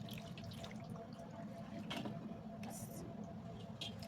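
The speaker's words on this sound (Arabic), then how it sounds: "وهنا هنزل بالصينيه اللي كان فيها الفراخ، نص كوبايه ميه سخنه." Hot water poured into a chicken baking tray, half a cup, a soft steady watery pour with faint splashing over a low room hum, lasting a few seconds.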